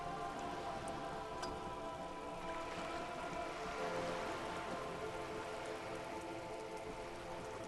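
Steady rain falls in the video game Disco Elysium, a continuous dense hiss of drops on surfaces that holds an even level throughout with no talking.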